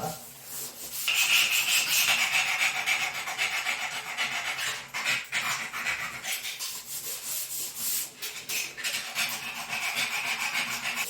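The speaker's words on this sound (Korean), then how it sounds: "이런 부분은 칸을 살살 긁어내면서 천천히 제거를 해주면" Close, steady rasping and scratching of a hard tool scraping cement from narrow tile joints, continuous with brief pauses and uneven strokes.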